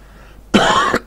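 A single sharp, close cough from a person in a chilly, unheated home breaks sudden silence, followed by a brief second catch of breath.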